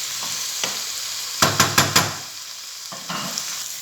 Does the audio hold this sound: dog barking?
no